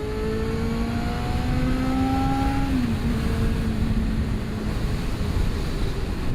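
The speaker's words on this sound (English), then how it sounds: "Hopefully you can hear the engine, very high revving." A 1988 Yamaha FZR400 EXUP motorcycle engine revs high on a ride, a steady whining tone rising and then dropping, heard over constant loud wind rush at the microphone.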